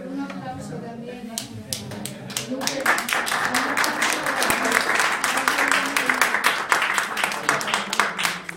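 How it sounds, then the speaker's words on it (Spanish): Audience applauding at the close of a Spanish-language lecture on brilliant women writers of ancient Japan, the clapping swelling from a lighter start into sustained, dense applause with some murmuring voices beneath it. "Un aplauso también."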